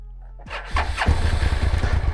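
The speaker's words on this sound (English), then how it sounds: "turn on the ignition and press start. And up and ready she goes." A 2003 Suzuki SV 650 motorcycle, stone cold and on full choke, is started: a short whirring crank, then the V-twin engine catches and settles into a loud, close, lumpy idle.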